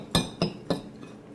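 A utensil taps against a bowl three times in quick succession while dry mustard and cayenne pepper are mixed together, producing short, bright clinks that are fairly quiet and close.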